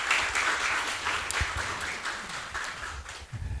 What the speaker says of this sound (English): give applause to Dr.